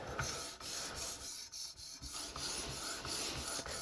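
A chef knife draws across an Edge Pro Apex sharpening stone in steady pull strokes, a continuous close gritty rasping with brief pauses between passes and no voices.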